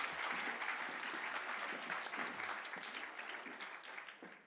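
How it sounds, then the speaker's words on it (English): An audience applauds scholarship award recipients at a continuing-education awards ceremony. Warm, dense clapping from a sizable crowd, heard at some distance, gradually thins and fades toward the end. "Let's have a nice round of applause for our ABI Scholarship Award recipients"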